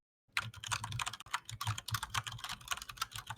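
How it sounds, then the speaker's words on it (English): Fast, steady typing on a computer keyboard, close and crisp, with continuous clattering keystrokes and no voices. "Typing."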